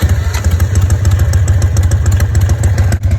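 A motorcycle with a weak battery that was just dead runs at a steady loud idle up close, its throbbing engine pulsing evenly with a brief dip near the end.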